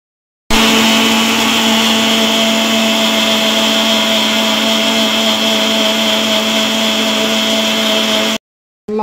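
A blender grinds watermelon for a mocktail, a loud steady whir running unbroken for about eight seconds before cutting off abruptly.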